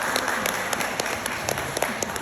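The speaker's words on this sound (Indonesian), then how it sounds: "tepuk tangan." Dense audience applause fills a school gathering, many hands clapping at once in a continuous, fairly loud patter with no talk over it.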